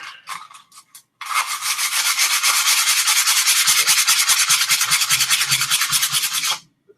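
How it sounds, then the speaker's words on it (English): A sheet of medium grit sandpaper rubbed back and forth by hand, a loud, close, rapid rhythmic scratching that runs steadily for about five seconds after a few short strokes. "This one sheet of medium grit seems to be just enough."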